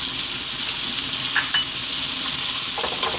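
Vegetables stir-frying over high heat, kept moving in the pan, give a steady continuous sizzle with a few brief stirring clatters, close and fairly loud, with no talk.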